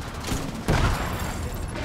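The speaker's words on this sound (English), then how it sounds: "I hear gunfire." Gunfire in the video game The Division 2: Warlords of New York: a sudden loud burst of shots breaks over a dense battle din, then a sustained rattling roar carries on to the end.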